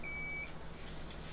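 A lab testosterone analyzer gives a single short, high electronic beep at the end of its incubation, over a steady hum of laboratory machinery.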